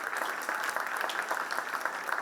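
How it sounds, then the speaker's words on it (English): Continuous crowd applause at the launch event of the Pullur Centre, a steady, even wash of many people clapping throughout. "A big round of applause to every single Nudgester over here."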